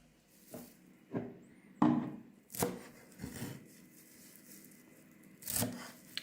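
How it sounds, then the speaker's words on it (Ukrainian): A knife chops through parsley onto a cutting board in single crisp strikes spaced a second or so apart, near and distinct. "Зараз ще наріжу зелень петрушка."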